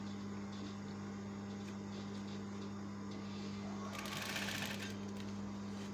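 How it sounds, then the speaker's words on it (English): A sewing machine stitches a half-inch side seam on a suit with a steady, close mechanical hum, while a brief burst of higher rattling rises near the end. "So we seal the side with our normal 1/2 inch sewing."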